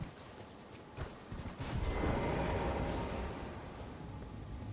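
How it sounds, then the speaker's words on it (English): A horse's hooves clip-clop in the open-world video game Elden Ring, a run of quick rhythmic footfalls building into a steady galloping rumble, moderately loud with no talking. "How do you get off your horse?"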